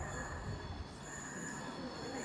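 A multi-coach passenger train pulls into a platform at Stafford station, its wheels squealing high and steady over a low rolling rumble, moderately close with no talk.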